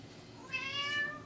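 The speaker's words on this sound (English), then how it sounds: "Well, hello, kitty." A cat meows once in a garden, a short rising-and-falling call that starts partway in and stands fairly close over a quiet outdoor background.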